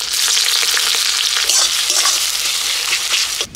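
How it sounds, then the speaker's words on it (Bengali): Chopped onion fries in mustard oil with black cumin in a hot wok, giving off a loud, steady, close sizzle with stirring scrapes and no voices. "দেখুন পেঁয়াজটা আমি লালচে করে ভেজে নিলাম।"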